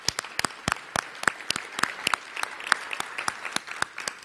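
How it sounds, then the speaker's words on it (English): An audience at the 2017 O'Reilly Defender Awards gives the winners a round of applause, with crisp clapping that stays steady and fairly close throughout. "another round of applause for all the winners"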